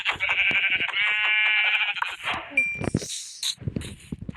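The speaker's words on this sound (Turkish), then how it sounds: "Aha koyun" A sheep bleats in a long wavering cry in Minecraft, followed by game chimes and rustling, with a few more short animal noises near the end.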